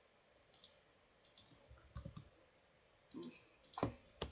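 Computer keyboard being typed on nearby, sparse clusters of quiet key clicks in irregular bursts against a faint background.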